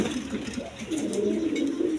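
A pair of short-piece pigeons, a female and a male, coo steadily and close by in low, rolling, continuous calls that swell in the second half.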